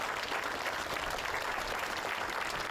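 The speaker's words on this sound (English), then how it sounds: "let's give them a round of applause" An audience at an elementary school ribbon-cutting ceremony claps for county commissioners and other elected officials, a continuous, even patter of many hands heard at moderate distance without a break.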